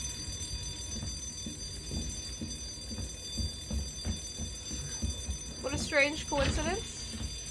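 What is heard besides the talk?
fire alarm ringing in video game Resident Evil 2 Remake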